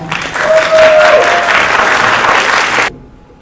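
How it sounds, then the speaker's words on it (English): Loud audience applause fills the room at a hip hop conference, steady clapping from many hands that stops abruptly near the end. "a round of applause"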